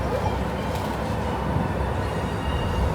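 A Disneyland Resort tram rumbles steadily toward a stop with low rolling noise and faint wheel hum, moving at a constant pace.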